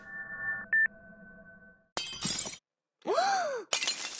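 A glass replica shatters with sharp, crashing bursts of breaking glass, set between electronic beeps and a swooping synthetic tone in a digital, game-like scene.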